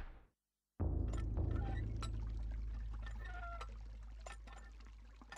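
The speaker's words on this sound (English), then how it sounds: "Invisible water into the bucket!" In the Eternal Darkness video game, water pours into a bucket: a sudden, loud gush after a moment of silence, then a steady stream that slowly fades.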